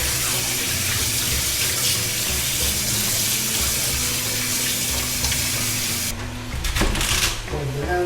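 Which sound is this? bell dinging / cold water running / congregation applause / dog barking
cold water running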